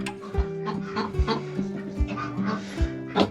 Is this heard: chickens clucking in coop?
yes